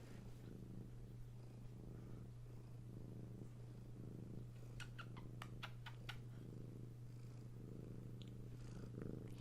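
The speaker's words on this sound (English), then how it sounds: "Hear those little purrs." A precious girl cat purrs steadily while held in someone's arms, a low continuous rumble running close and soft through the whole stretch, with a few faint clicks in the middle.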